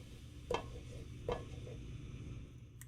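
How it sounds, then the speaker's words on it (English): Bell peppers sautéing in butter in a pan give off a faint, low sizzle, broken by two soft stirring scrapes about a second apart. "we're just going to saute the peppers, then the onions, then the mushrooms"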